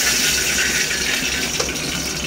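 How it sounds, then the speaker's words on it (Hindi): Water gushes steadily into a cooking pot for rice, already holding bay leaves, cumin, cloves and black pepper, a continuous close splashing pour without any talk. "पानी डाल देंगे"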